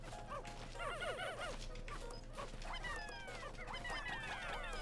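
A dog in the Pikmin 4 video game on Nintendo Switch gives a run of quick, pitched yips and whimpering barks over soft, steady game ambience, faint in the mix.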